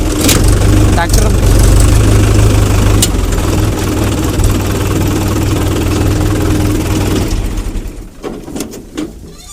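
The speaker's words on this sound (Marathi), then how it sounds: "ट्रॅक्टर." A tractor engine runs loudly and steadily at close range, a constant low rumble that eases off toward the end, with people talking over it.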